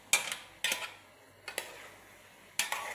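A spoon clinks and scrapes against a pot while avial with curd is stirred. Four distinct bursts of clatter come in an uneven rhythm, close and clear, with quiet pauses between them.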